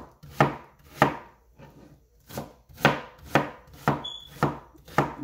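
A knife chops onion on a cutting board in a steady rhythm of about nine close, crisp thuds, with short pauses between strokes and no talking.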